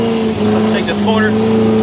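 A 1969 Volkswagen Buggy engine drones steadily and loudly while the car drives through a corner, with a voice talking over the engine noise.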